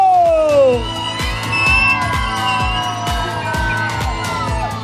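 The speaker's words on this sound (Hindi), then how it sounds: "सारी तालियां, सीटियां सब एक साथ जमा कर लें" Wedding sangeet guests clap, whistle and cheer together at a loud, lively party, with shouts and whoops over rhythmic music with a steady beat, and a high whistle sliding down at the start.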